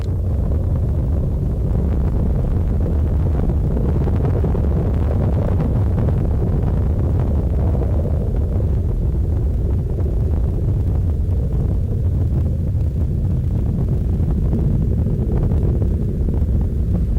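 Space Shuttle Discovery's three liquid-fueled main engines roaring during the STS-91 launch, a loud, sustained, low rumbling thunder heard from a distance, with wind buffeting the microphone and no voices.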